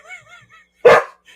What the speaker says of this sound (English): now he hears himself barking on the TV in the living room